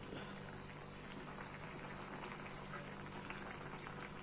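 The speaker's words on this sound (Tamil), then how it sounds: "நல்லா தக்காளி தொக்கு நல்லா கொதிக்குது பாருங்கள்." Tomato thokku gravy bubbles steadily in a pan, a constant close-up simmering hiss and gurgle with faint occasional pops, no voices over it.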